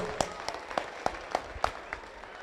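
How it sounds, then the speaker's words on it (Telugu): A handful of sharp, separate hand claps ring out at a Telangana anniversary celebration held by a Canadian association, spaced in a loose, sparse rhythm and sounding fairly distant, with no talking. "Come on big loud of applause."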